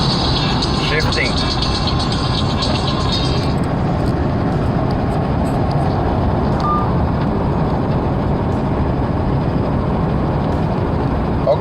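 A truck engine runs with a loud, steady rumble and road roar, high whine easing after the first few seconds as it shifts, with no pauses in the drone.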